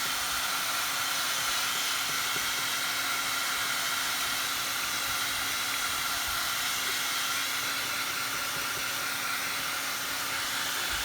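A hair dryer blowing steadily to dry acrylic paint on a junk journal tag, a loud continuous airy roar with a constant motor hum, unbroken throughout.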